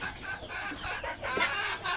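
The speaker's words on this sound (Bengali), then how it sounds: "উপরে ডিমের মুরগিগুলো থাকে" Chickens cluck and murmur continuously in a two-storey poultry farm house where laying hens are kept, a dense flock chorus at moderate volume.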